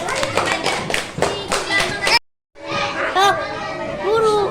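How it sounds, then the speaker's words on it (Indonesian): A class of children claps hands in short lively bursts, broken by a brief silent gap, with children chattering and calling out over the clapping. "Tepuk tangan."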